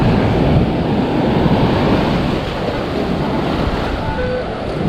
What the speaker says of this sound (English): And then all the waves leave.